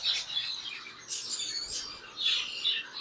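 Pet lovebirds in a bird shop in Islamabad, a chorus of shrill, high chirps and squawks in overlapping bursts, fairly close and moderately loud.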